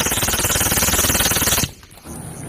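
An MP7 submachine gun fires in a video game as a loud, rapid automatic burst of about a second and a half that cuts off abruptly, followed by a brief quieter tail.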